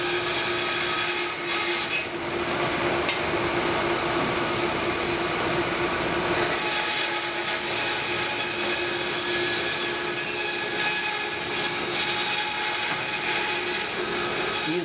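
A Felder FB 710 band saw cutting wood, producing a steady continuous whirring drone with a grinding, rasping cut layered on top, close and sustained with no pauses.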